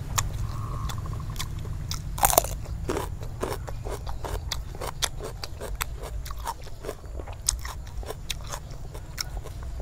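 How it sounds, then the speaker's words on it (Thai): Loud close chewing of fried beef balls eaten with crisp fresh vegetables, a steady run of wet crunches and bites with sharp crisp snaps scattered throughout over a low background hum. "มาคอมเมนต์ว่าเคี้ยวเสียงดังค่ะ"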